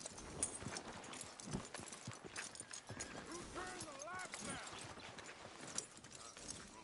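Horse hooves clip-clop with a whinny in the Red Dead Redemption 2 video game, steady hoofbeats running throughout under spoken dialogue, with a rising, wavering neigh in the middle.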